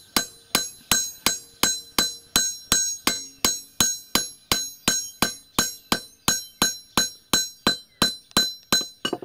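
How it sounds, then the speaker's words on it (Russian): A hammer peens a scythe blade on an anvil-mounted hammer, striking in a steady, even rhythm of about twenty-five sharp metallic ringing blows, close and loud with no talk. "А тут можно один молоток закрепить, а по-другому бить на молотке."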